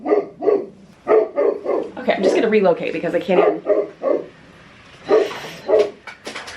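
A small dog yaps in short repeated bursts, close by, while someone talks over and between the barks.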